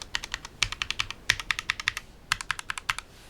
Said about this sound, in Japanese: とりあえず打鍵音を聞いてみましょう。